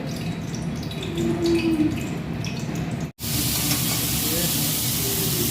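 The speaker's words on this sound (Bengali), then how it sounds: "চিংড়িটা ভাজা বসিয়ে দিয়েছে" Steady sizzle of shrimp frying in a pan, with a soft hiss throughout, briefly cut off midway and then resuming louder, with faint clinks of a utensil.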